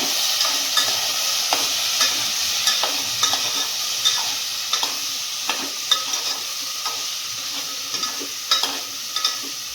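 Vegetables, including drumsticks and eggplant, sizzle in a hot pan while being stirred, steady frying hiss broken by repeated close scraping and clinking of the spoon against the pan, no voices.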